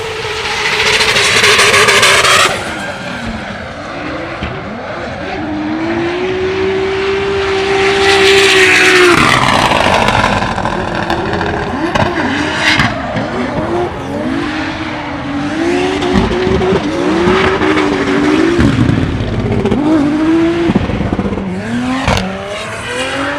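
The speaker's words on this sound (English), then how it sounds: "Judging from the sound of it, David Sposop did not change the gear ratio" Drift cars at a Drift Masters practice session in Spain scream past with high revving engines, rising and falling pitch sweeps and tire squeal, loud and continuous, with crowd and track noise underneath.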